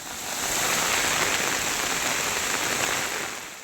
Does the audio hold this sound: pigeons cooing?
no